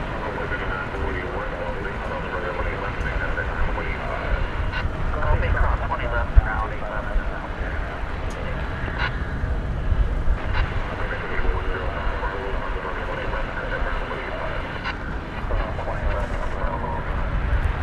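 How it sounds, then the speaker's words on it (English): American Airlines 737-800 at night at DFW airport, a broad distant jet-engine roar rumbling steadily throughout, with a voice talking over it and scattered clicks and knocks. "Headed out to El Paso, Texas, is this American Airlines 737-800."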